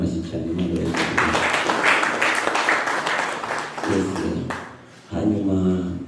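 A crowd applauds with a thick burst of clapping that dips briefly and then resumes, while a voice speaks over it.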